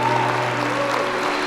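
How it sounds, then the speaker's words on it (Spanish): A church congregation applauds at a Spanish-language sermon, steady dense clapping that fills the short stretch with a continuous wash of sound and a faint hum underneath. "Dale un fuerte aplauso al Señor"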